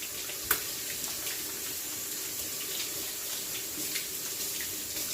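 Water runs steadily from a kitchen tap as hands are washed during tiramisu preparation, a continuous splashing hiss with one brief clack near the start and no talking.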